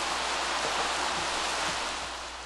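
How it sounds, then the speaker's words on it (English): Steady rain in The Sims 3, heard when zoomed out, forming a loud, dense, continuous hiss that stays even throughout and fades slightly near the end. "The rain just is so loud."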